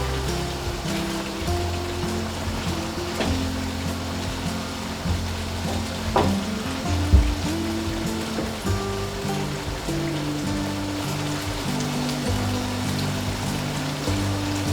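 Lamb karahi reducing in a pan, a steady close bubbling sizzle that runs throughout with a low background hum.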